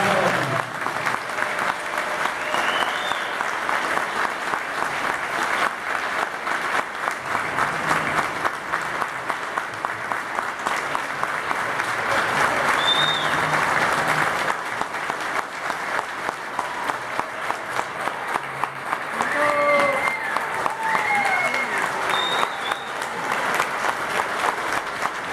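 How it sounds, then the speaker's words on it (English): Long, sustained applause from an audience at a Trenton police explorers graduation, steady crowd clapping for 30 graduates with occasional whoops and voices rising over it. "we are to applaud these 30 young men and women that are doing positive things here in the capital city of Trenton"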